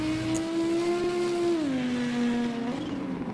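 A five-cylinder race car engine at a European hill climb championship round, a loud sustained drone holding pitch, then dropping as the car shifts and carries on, heard from close by without talk.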